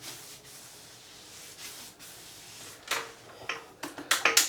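A paintbrush works paint into the back side of interior trim with soft rubbing strokes, faint at first, then a series of sharper brushing swipes growing louder toward the end.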